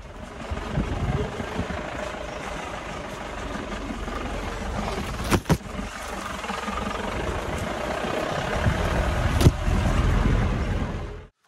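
Vehicle grinding along a rough off-road track to a homestay, a steady engine drone with rumbling low end and a couple of sharp knocks and bumps from the uneven surface, no talking.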